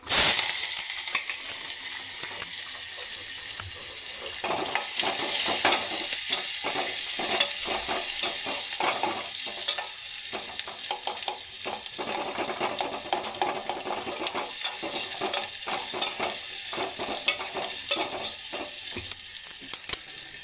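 Chopped onion and curry leaves frying in oil with asafoetida for a simple tomato-onion sambar, a loud continuous sizzle with frequent scraping and stirring taps throughout.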